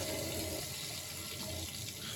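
Cold water runs from a bathroom tap during a wet shave, a steady close hiss and splash of a continuous stream with no talking.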